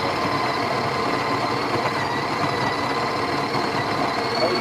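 A Breville Barista Express built-in coffee grinder runs weakly, giving a steady, continuous whirring hum with a constant level throughout and no talk.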